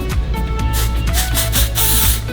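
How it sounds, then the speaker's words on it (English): Texture spray hisses from an aerosol can onto styled hair in several short, close bursts, with brief rubbing between them, and no talking. "And then I just take texture spray"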